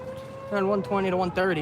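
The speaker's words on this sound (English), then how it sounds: "As you can hear, bridge alarm is sounding." A steady wailing railway bridge alarm holds at one pitch, then warbles and rises and falls as someone talks over it, fairly close and loud.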